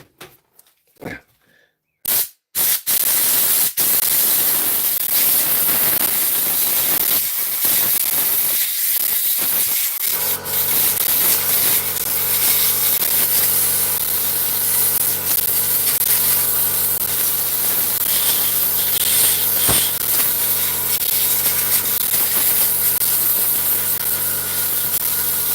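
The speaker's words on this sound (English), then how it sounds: "Bit of compressed air" Compressed air blasts in short bursts, then settles into a long, loud, continuous hiss as it is blown to clean a device on a repair bench.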